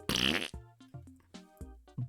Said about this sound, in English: she's just straight up farting